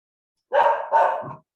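A single dog gives two or three quick, loud barks up close in an otherwise silent indoor space, with no one talking over them.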